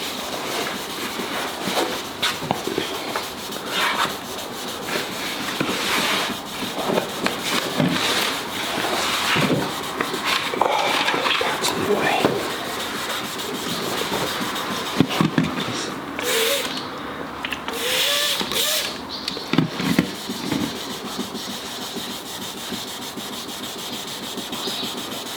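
Wet sanding plastic with a sanding pad, repeated rubbing strokes in an uneven rhythm, close and moderately loud, with people talking over parts of it.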